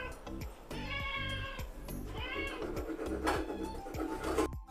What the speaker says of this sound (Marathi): मच्छी साफ करत असताना त्रास देतात मांजर लोक.